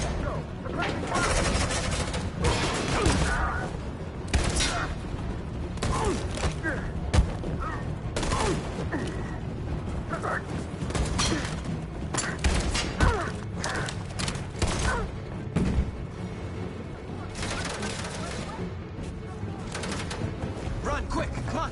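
Gunfire in the video game Detroit: Become Human, a dense, sustained barrage of shots and impacts with thuds and crashes, loud and continuous, with voices shouting over it.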